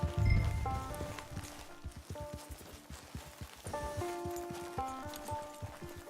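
Horse hooves clip-clopping at a steady walking rhythm in Red Dead Redemption 2 Online, close and clear over a quiet game-world ambience with faint tonal music.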